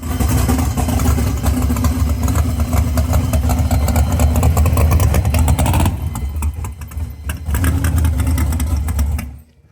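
A damaged race car engine runs loud and close in a rough, uneven idle with throttle blips. It dips briefly partway through, picks back up, then cuts off at the end.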